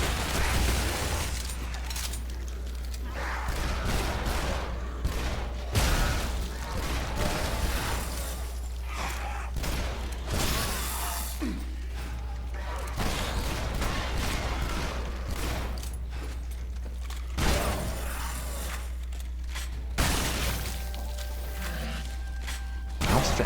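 Dense gunfire from dual SMGs in the Shadow Warrior video game, with rapid bursts running steadily and loudly throughout amid combat whooshes and mechanical clatter.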